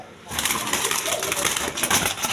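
A pair of Modarna pigeons coos close by in a loose, continuous run of soft calls, with a faint voice murmuring now and then beneath them.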